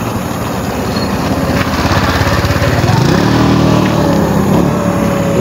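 Motorcycle engine close by as someone learns to ride, a buzzing light engine that rises and revs up partway through, with faint voices around.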